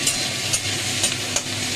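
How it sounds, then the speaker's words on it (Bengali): Soaked cashews and melon seeds frying in a little oil in a pan, a steady close sizzle with a few brief stirring scrapes on top. "আমি এখন একটুখানি তেলে এটা ভেজে নিচ্ছি"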